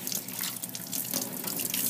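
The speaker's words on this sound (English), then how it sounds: "Rinse off my sponge." Tap water runs steadily into a sink while a sponge is rinsed during cleanup after printmaking, a continuous close splashing hiss with small irregular surges and no voices.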